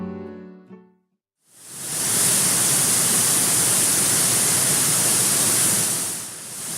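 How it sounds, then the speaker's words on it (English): A giant waterfall at Little River Canyon National Preserve in Alabama roars as a dense, continuous broadband rush, loud and close. A brief voice and a short gap come before it, and it eases slightly near the end. "That sound you hear is the giant waterfall."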